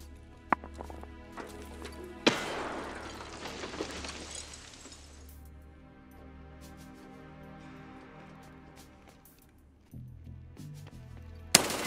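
Gunfire in Escape from Tarkov: several sharp gunshots, including a loud crack early on, set against scattered game noise, rustling and footstep-like movement, with another sudden shot at the very end and no talking.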